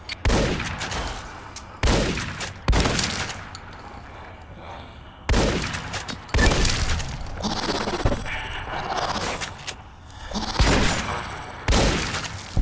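Heavy gunfire and explosive blasts from Fallout: New Vegas in the Sierra Madre Vault, loud close bursts arriving every second or two with rumbling tails between them.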